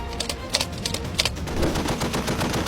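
An M2 Browning heavy machine gun fires bursts of sharp, rapid reports that repeat in a steady stutter, loud and fairly close. A dense, noisy rumble of continued fire follows in the second half.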